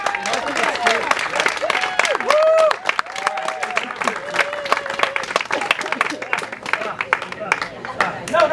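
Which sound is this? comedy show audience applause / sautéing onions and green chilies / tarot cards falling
comedy show audience applause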